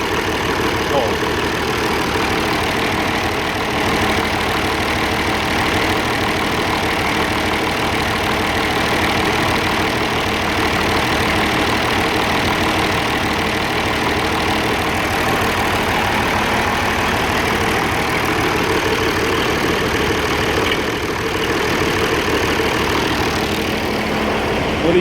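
An Oliver 1550 diesel tractor engine idles steadily and close by, a continuous rumbling drone with a faint ticking knock running unbroken throughout.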